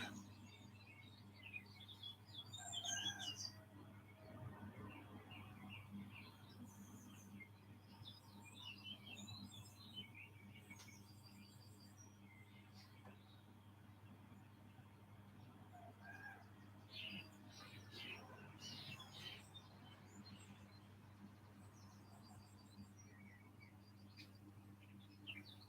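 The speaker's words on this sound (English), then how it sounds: "Listen to the sounds of the birds, if you can, coming in from the garden" Birds sing in a garden, with faint scattered chirps and tweets over a quiet, steady background hum.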